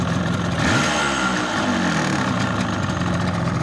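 A freshly re-ringed car engine runs steadily close by, a loud, even idle with a brief rise in revs near the start, and no talking over it.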